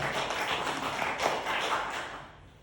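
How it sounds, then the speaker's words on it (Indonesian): A church congregation claps together, a dense, steady patter of many hands that holds for over two seconds, then fades away at the end. "Tepuk tangan dong buat orang Kristen"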